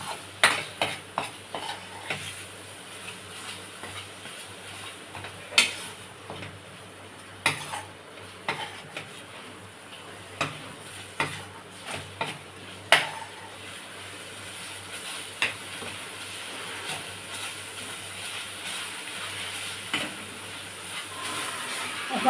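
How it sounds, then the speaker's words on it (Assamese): A spoon stirs fish curry with khorisa, fermented bamboo shoot, and chili powder in a pot. Irregular scrapes and metallic clinks sound over a faint, continuous simmering sizzle. "ইয়াত এতিয়া আমি এইখিনি ভালকৈ লৰাই লওঁ"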